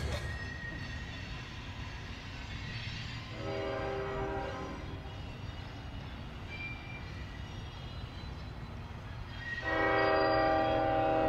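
A westbound train passes a crossing slowly, keeping up a low distant rumble, with two loud sustained horn blasts partway through and at the end.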